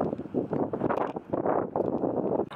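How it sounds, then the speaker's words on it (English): Wind gusts outdoors, buffeting the microphone in loud, uneven rumbling bursts throughout with no clear voice. "it's kind of windy"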